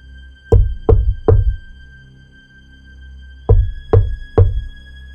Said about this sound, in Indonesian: suara ketukan pelan itu terdengar